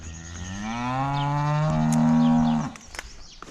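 A cow in a pasture gives one long, loud, close moo that rises and then cuts off, followed by quiet outdoor background.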